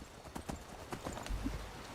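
Horse hooves clip-clop in Skyrim, a quick series of faint, evenly spaced hoofbeats with a soft low rumble beneath and no voices.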